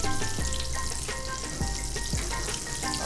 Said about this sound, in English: So, done. Pull them out. Right in. A pot of oil.